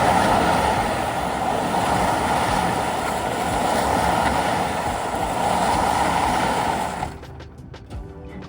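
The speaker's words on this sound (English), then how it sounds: "We can also toss on some ocean sounds if we want to," Ocean wave sounds playing from an iPhone: a steady, full rushing surf noise that cuts off abruptly near the end, leaving a few faint clicks.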